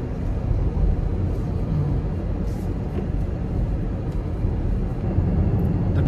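Steady, even road and tyre rumble inside a 2025 Volvo EX90 cruising at 60-70 km/h on a busy Malaysian road, low and continuous with no voices.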